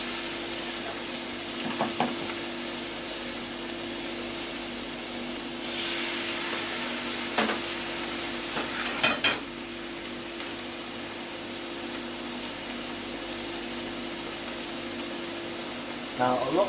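Brussels sprouts frying in a hot pan with a splash of water added to steam them, giving a steady background sizzle with brief bursts of hissing spray and stirring clatter, while a person talks at times.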